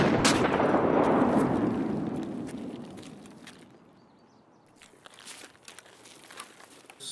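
An enemy frag grenade goes off in a Lighthouse-map shooter match, a loud broadband blast that rolls off over a few seconds into quieter ambient crackle.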